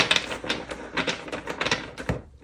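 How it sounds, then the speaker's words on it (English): Tarot cards shuffled by hand, a quick run of crisp riffling flicks and snaps, close and fairly loud, with no talking. "I'm going to shuffle one more time."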